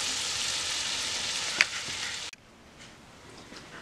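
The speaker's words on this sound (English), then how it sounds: "I have a frying pan going" Loud, steady hissing sizzle of a blended red snapper stuffing mixture with crab and shrimp frying in a hot pan, with a small pop before it suddenly drops to a quiet crackle.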